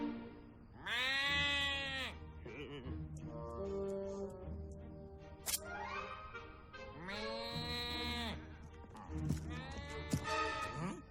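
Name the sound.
person imitating goat bleating in an animated movie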